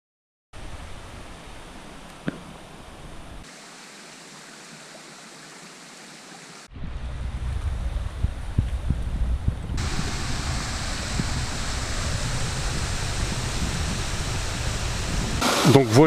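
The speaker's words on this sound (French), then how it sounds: "Donc voilà la deuxième cascade" Second waterfall of the Cascades de la Vierge at Murel, water falling on a small stream in a steady broadband rush that grows louder and fuller partway through, continuous and close with no voices.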